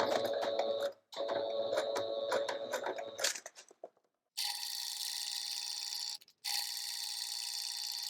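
A sewing machine stitches a shaker pouch in fast, steady mechanical runs, stopping briefly twice and then starting again at a higher whirring pitch after a short gap.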